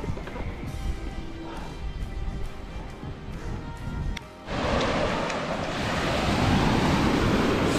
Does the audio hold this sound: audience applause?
no